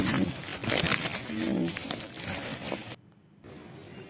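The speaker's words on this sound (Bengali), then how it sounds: "এই যে সেই আলুগুলো এখন আমরা তুলে নিচ্ছি" Potatoes being pulled up by hand from a field plot, soil crumbling and plant stalks rustling in a close, dense scrape, ending in a brief quiet gap.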